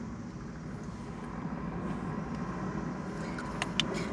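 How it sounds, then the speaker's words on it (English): Airplane passing over an outdoor live search in 2024: a steady, low broadband drone of engine noise holds throughout, moderately loud and continuous, with a faint distant helicopter also present and a brief tick near the end. "that's just an airplane"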